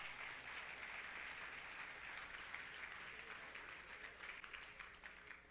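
Church congregation clapping during a Spanish-language Christian service, a continuous roomful of hands with quiet distant tone, holding steady then thinning slightly toward the end.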